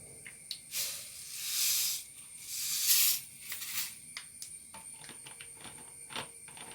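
Seeds crackle and pop in hot oil, scattered sharp snaps over a hissing sizzle that swells twice, no talking.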